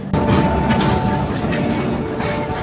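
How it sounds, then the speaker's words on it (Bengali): The Garib Rath Express pulling out of Bhadrak station, heard as a loud, continuous rumble and rattle of the train that holds steady and close for the whole stretch. "আর আমাদের ট্রেন ছেড়ে দিল ভদ্রক থেকে"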